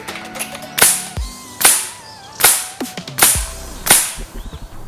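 A .22 air rifle on its maximum power setting fires 34-grain pellets, five sharp, loud cracks spaced about a second apart, each with a short low thump and a quick decay, with no talking.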